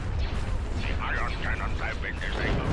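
Starship cannons fire in a Star Wars space battle game, a dense low rumble of repeated blasts continuing throughout. Voices carry on over the gunfire.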